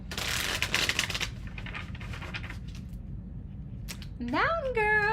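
Riffling bursts of tarot cards being shuffled up close for about a second, then softer shuffling, followed by a rising tonal chime over low background hum.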